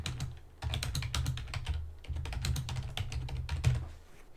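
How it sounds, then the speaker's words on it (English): Fingers type an answer on a computer keyboard in quick, uneven bursts of soft clicking keys, heard close and fairly quiet with no voices. "we can type in our answer"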